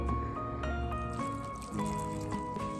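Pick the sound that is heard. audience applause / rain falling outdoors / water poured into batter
water poured into batter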